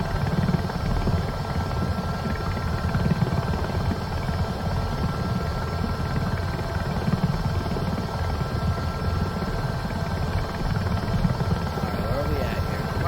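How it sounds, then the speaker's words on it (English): Helicopter rotor and engine drone in Microsoft Flight Simulator 2024, a steady loud thrumming with a constant high whine, unbroken throughout, while someone talks over it. "The helicopter fighting a little bit of turbulence up here."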